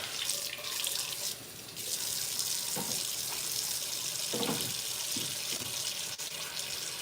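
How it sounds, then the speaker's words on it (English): Water runs steadily from a kitchen tap as a knife is rinsed under it, a continuous close splashing stream with brief shifts where the blade interrupts the flow, no talk. "I gotta wash my knife here."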